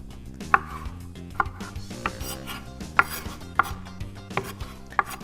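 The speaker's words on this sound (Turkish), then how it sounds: "Şimdi hızlıca bunları da doğruyorum." Salad ingredients, red onion among them, being chopped on a cutting board: a series of sharp, evenly spaced knife strikes, close and clear, over a low steady background with no one talking.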